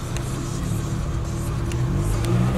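A car fitted with a rooftop tent pulls away on a foggy, slippery morning, its engine a close, rising rumble that swells and revs slightly over a few seconds, with no voices heard.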